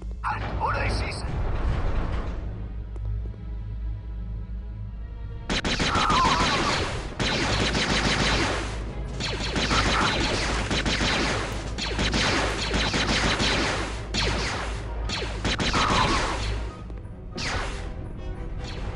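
A battle in Star Wars Jedi Knight II: Jedi Outcast, with loud bursts of blaster gunfire and clattering impacts coming in dense waves under someone talking over them.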